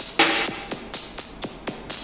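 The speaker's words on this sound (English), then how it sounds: "And then I use this percussion loop that I found" A percussion loop from Splice in a beat: a quiet, even pattern of short, bright, crisp hits roughly every quarter second, each decaying quickly, playing alone.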